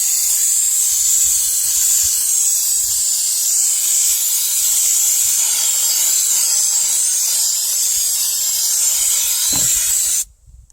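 Spray paint hisses steadily from a can onto a vintage 1953 Ford F100 speaker box, a close, loud, continuous spray lasting about ten seconds before it abruptly stops.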